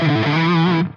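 An electric guitar played through a Yuer Tube Dream distortion pedal rings out as a loud, thick sustained chord with a slight wavering bend, then cuts off abruptly.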